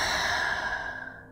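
A person releases one long, slow breath out, heard up close as a soft, airy sigh that gradually tapers away.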